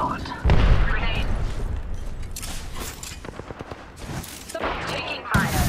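A frag grenade bursts in Apex Legends with a booming blast amid rapid gunfire and further bangs, loud and close, while a voice talks over the combat.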